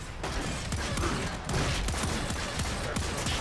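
Rapid gunfire in the video game Warframe, a dense burst of repeated shots fired close together, loud and continuous across the clip with no talk over it.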